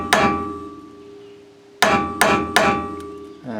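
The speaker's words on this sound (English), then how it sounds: "I'm going to tap it with a hammer." Four sharp metallic hammer strikes on a nut left on a few threads of a Mercedes W126 idler arm, each ringing with a clanging tail. The first comes alone, then after a pause three quicker ones follow.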